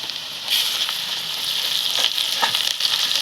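Ginger-garlic paste hitting hot oil with reddish fried onions for egg korma: a loud, continuous close-up sizzle with a bright hiss, occasional soft stirring scrapes breaking through.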